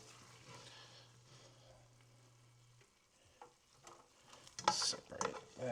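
Sausage sizzles faintly in a frying pan while a spatula breaks it up, with soft scraping and a few louder clanks and stirring scrapes toward the end over a low hum.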